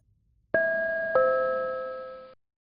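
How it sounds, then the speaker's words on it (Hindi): A two-tone ding-dong doorbell chimes at a home, the first strike ringing out and a second tone following about half a second later, both decaying over roughly two seconds before silence. "घंटी बज रही है।"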